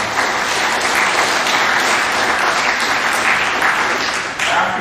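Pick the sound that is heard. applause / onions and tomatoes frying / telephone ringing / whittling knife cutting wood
applause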